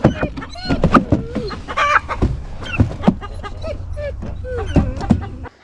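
A flock of chickens clucks and squawks close by as the birds are moved into a barn for winter, with busy overlapping calls, a few louder squawks and a faint dog in the mix.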